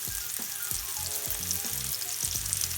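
Lamb chops with thyme and rosemary frying in a pan, giving a steady close sizzle with a few soft scraping touches.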